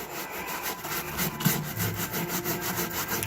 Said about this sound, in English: we're gonna start rubbing this down, and then we'll just rub and wipe